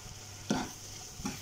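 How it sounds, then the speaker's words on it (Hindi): Masala frying in a pan, with two short stirring scrapes about a second apart over a faint low sizzle. "मसाले को बहुत अच्छे से फ्राई कर लेना है"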